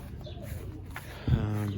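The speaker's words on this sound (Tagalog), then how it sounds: "Ito yung grizzle natin, mga kalapatid." A grizzle-coloured racing pigeon of Gerard Koopman lineage gives a close, resonant coo that swells loudly near the end after softer throaty murmurs. Faint background sounds accompany it.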